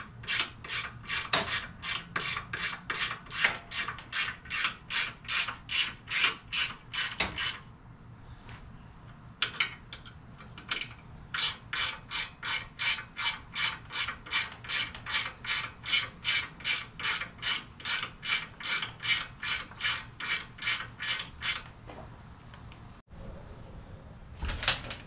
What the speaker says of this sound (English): Now you can get up in here with your quarter inch drive, half inch socket, and your swivel. Tighten each one of those up.